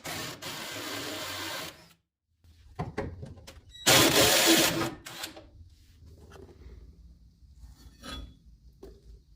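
Two bolts come off a 1969 Ford Econoline with a power tool, a sustained loud whirring burst at the start and another near the middle, with quieter clinks and handling sounds in between.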